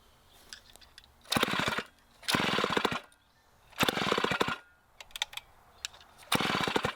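A vintage 1960s Homelite C-51 two-stroke chainsaw runs close by, rasping engine bursts of about half a second to a second alternating with quieter sputtering idle gaps.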